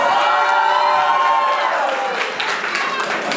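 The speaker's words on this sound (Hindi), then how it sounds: "मगर आपकी तालियों में भी थोड़ा जोर होना चाहिए।" Guests at a family mehndi and sangeet celebration in Mirzapur clap and cheer, a loud, busy crowd sound with shouting voices and whoops over steady applause throughout.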